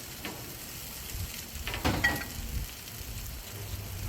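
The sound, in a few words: vegetables sizzling on a Blackstone griddle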